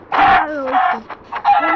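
A Minecraft chicken clucks in several short, loud, close bursts of bright, squeaky calls separated by brief pauses, with no other sound alongside.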